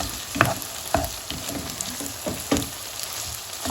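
Tomato paste and onions sauté in a hot pan, a steady sizzle and crackle punctuated by several sharp stirring scrapes at irregular intervals, close and alone.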